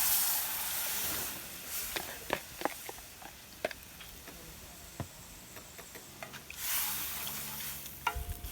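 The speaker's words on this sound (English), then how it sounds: "Add in coconut milk now." Coconut milk poured into a hot pan already holding coconut oil, hissing and sizzling with scattered clinks of a stirring utensil, a rush of frying noise swelling at the start and again near the end.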